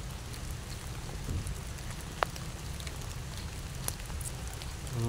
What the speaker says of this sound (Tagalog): Hindi naman ulan, ambon lang.